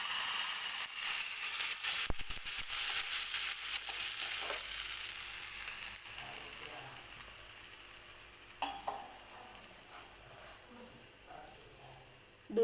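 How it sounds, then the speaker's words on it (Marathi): Water hits a hot tempering of curry leaves and asafoetida for dhokla with a loud, hissing burst of sizzle. The sizzle fades slowly to a softer bubbling hiss, with a few clinks of a utensil near the end. "थोडंसं हिंग टाकते मी फोडणीमध्ये आणि आता पाणी ओतून घेते"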